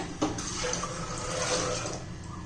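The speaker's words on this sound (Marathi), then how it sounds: "त्यात पाणी घालूया" Water pours steadily into a pressure cooker holding washed kidney beans, a continuous close splashing fill lasting a couple of seconds with no talk.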